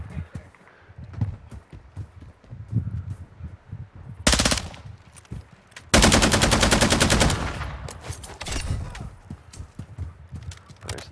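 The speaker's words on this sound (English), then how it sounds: "This gun feels really good, I'm just saying." Rapid automatic gunfire from a video game comes in two loud bursts, a short one and then a longer sustained rattle, with quieter game sounds in between.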